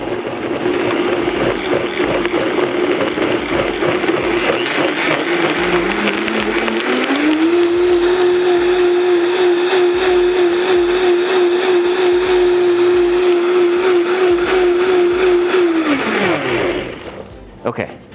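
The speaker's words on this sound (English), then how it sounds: "we just want to puree it till it's smooth, and that should just take a second in our VitaPrep blender here." A VitaPrep blender purees crushed tomatoes for salsa roja, a loud steady motor whir that climbs in pitch, holds a high even drone for about ten seconds, then winds down at the end.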